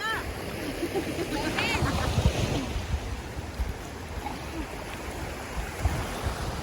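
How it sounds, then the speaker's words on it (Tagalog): Steady rushing wash of sea waves on the shore at night fills the clip, with wind buffeting the microphone and people calling out faintly in the background. "Dagat naman ito."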